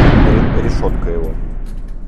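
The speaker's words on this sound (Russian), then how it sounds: "Сейчас немножко выстрелим, послушаем звук, как винтовки работают." A single loud air rifle shot, from the Leshiy or Eger models being test-fired at an indoor shooting range, cracks sharply at the start and rings off into a fading reverberant tail.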